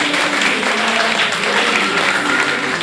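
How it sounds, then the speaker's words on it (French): Church congregation applauding during a French-language worship service, steady dense clapping that holds at an even level for the whole stretch with no pauses or talk. "Est-ce qu'on peut acclamer la parole de Dieu?"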